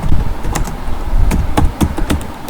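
Keys tapped rapidly on a computer keyboard during a typing-practice session, a close, uneven run of sharp clicks and knocks with irregular bursts over a low background hum.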